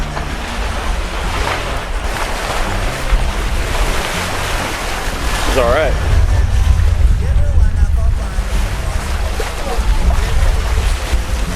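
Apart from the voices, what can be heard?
rolling ocean waves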